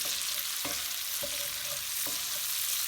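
Potatoes fry in a cast iron pan with a steady, dense sizzle that never lets up, broken by a few soft scrapes as they are stirred, close and continuous with no voices.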